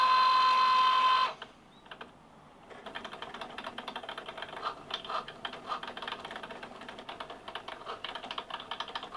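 A Cricut cutting machine runs on its own after being started, giving a steady run of quick mechanical ticks and clicks close by, following a brief beep at the start.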